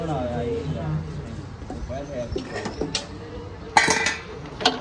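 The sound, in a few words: adding tomatoes to a cooking pot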